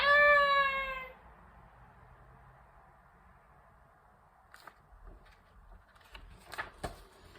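Cats give a loud, high meow or yowl at the start. Quieter scattered clicks and knocks follow at a distance.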